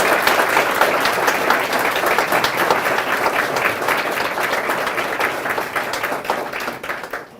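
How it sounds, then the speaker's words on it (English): A large audience of students gives a loud, sustained round of applause for former central bank governor Duvvuri Subbarao at a motivational talk, with dense, steady clapping that tapers slightly at the end. "let us first give a huge round of applause to D."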